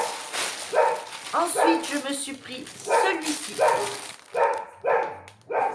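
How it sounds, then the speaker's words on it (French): A dog outdoors barks repeatedly in short bursts, somewhat distant, beneath someone speaking French indoors. "on a le chien qui est dehors et qui a décidé d'aboyer"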